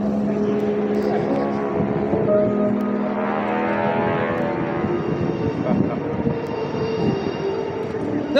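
Solo jet aircraft flying past at the Jones Beach air show, a loud, sustained roar with a sweeping pitch shift as it passes, amid outdoor crowd ambience.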